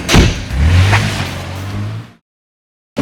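A 300-horsepower 2018 Toyota Camry XSE engine revs hard and accelerates past with a loud roar for about two seconds, then cuts off abruptly into silence.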